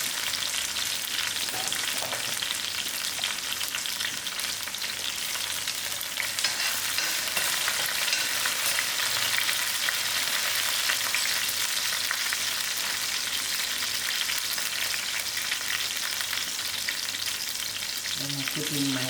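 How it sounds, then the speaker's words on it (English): Steady, dense sizzling and bubbling from a pot of egg and potato curry with curry leaves on the stove, eggs boiling, continuous and fairly close, with a few faint clinks near the end. "You can hear the eggs are boiling"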